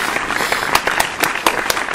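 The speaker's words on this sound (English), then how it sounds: "We'll give you some claps." A small group claps for an interview guest, a steady, fairly loud patter of hands with a few sharper individual claps standing out.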